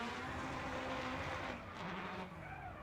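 Tony Angelo's Scion Racing Scion tC drifts at a night Formula Drift round in Las Vegas, giving a continuous, fairly distant roar of engine and squealing tyres that eases slightly toward the end.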